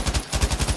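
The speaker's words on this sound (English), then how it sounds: "You've got bullets coming at you from all directions." Rapid automatic gunfire in the video game Battlefield 5: a quick, evenly spaced burst of about eight sharp shots in under a second, moderately loud, with no talk.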